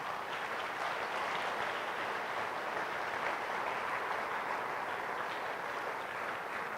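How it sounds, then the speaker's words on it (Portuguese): Church congregation clapping together in praise, a dense, steady wash of applause from a large crowd that fills the space without a break or any voices on top. "Você pode aplaudir o Senhor"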